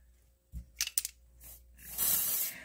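Makeup setting spray from a pump bottle hisses in short bursts, then a longer, louder continuous spray near the end, close and quiet.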